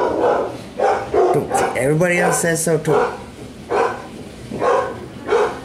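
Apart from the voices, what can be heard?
dog barking to come inside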